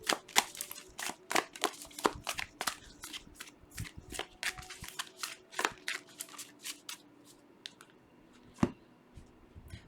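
Dream Reading oracle cards being shuffled by hand, a quick run of crisp close riffling slaps that thins out into scattered soft taps and one last snap, with no voices.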